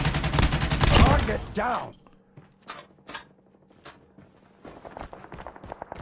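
An LK24 rifle fires in the mobile shooter game Call of Duty Mobile. Short, sharp bursts of shots follow a loud stretch of voice and game noise at the start.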